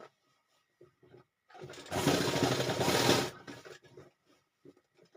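A sewing machine stitches the straps onto a four-cornered pillow cover in one steady whirring run of about a second and a half, close by, framed by quiet handling clicks and rustles before and after.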